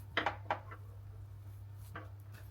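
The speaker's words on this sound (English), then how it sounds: "So just cut it like so and just peel it." A ripe plantain being cut and peeled: a few quiet knife cuts and snaps near the start and another around two seconds, faint and close over a steady low hum.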